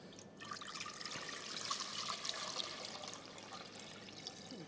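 Mineral water pours steadily into a cooking pot resting on kitchen scales, a continuous close trickle and splash lasting several seconds with no talk.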